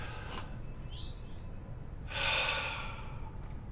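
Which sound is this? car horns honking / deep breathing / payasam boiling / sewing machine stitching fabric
deep breathing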